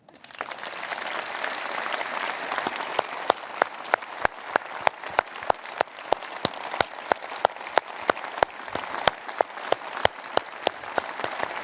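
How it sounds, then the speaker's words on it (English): Sustained audience applause fills the hall at a Liberal Democrats party conference, a dense wash of clapping with sharp individual claps standing out, steady and loud throughout with no talk over it. "Please applaud yourselves."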